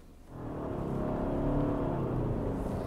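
A 2018 Subaru Legacy's 2.5-liter four-cylinder engine hums steadily from inside the cabin, a low smooth drone that swells slightly as the car picks up speed.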